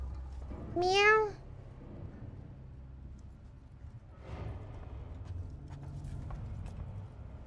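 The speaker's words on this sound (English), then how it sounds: "feel like I just heard a cat meow." In the video game Alien Isolation, a single drawn-out cat meow rises and falls clearly near the start, followed by quiet low background hum and soft distant clatter.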